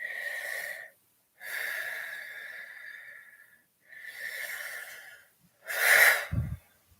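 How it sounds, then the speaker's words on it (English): Slow, deep breaths drawn in and let out for a chakra-clearing breathing technique: four long, airy breaths with pauses between them, close and moderately loud, ending in a sharper snort-like exhale. "So you're breathing in."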